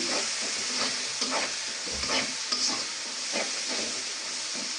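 Spice masala with chilli powder being sautéed in a pan, a dense close sizzle of frying with soft, irregular stirring scrapes running throughout and no voices.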